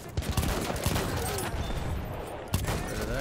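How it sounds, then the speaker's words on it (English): M97 Sweeper pump-action shotgun firing in Battlefield 1 amid a close-range multiplayer firefight, with loud repeated blasts and sharp reports over dense background gunfire and battle noise. "The shotgun is definitely good for close range with multiple people"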